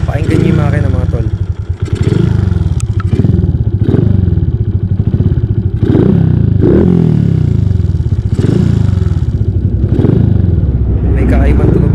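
A motorcycle engine runs rough after a rear wheel lock-up and skid, a loud, steady, throbbing idle with repeated irregular thumps and clatter at close range, no speech over it.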